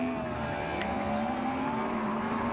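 A Ferrari SF90 hybrid in a drag race against a Porsche Taycan Turbo GT and a Yamaha R1M gives a steady, rising engine whine that climbs in pitch, with faint tire noise and no talk.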